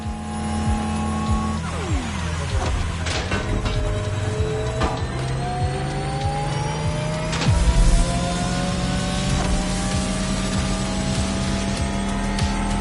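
Porsche electric car in The Crew Motorfest video game, a steady whining electric drivetrain with rising and falling pitch sweeps as it accelerates, plus a low rumble, continuous and fairly loud with no talk.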